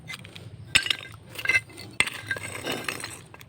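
Shards of broken Japanese ceramic jars, dug up on Turtle Island, clink and knock together in a few sharp, close taps over low background rumble, with no talking.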